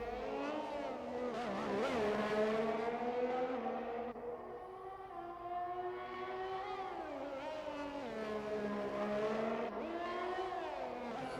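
F1 race car engine on an out lap in the F1 2021 video game, a high-pitched whine that climbs through gears, dips on downshifts and rises again, sustained and fairly loud throughout.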